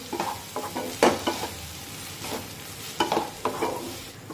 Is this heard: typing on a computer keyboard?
no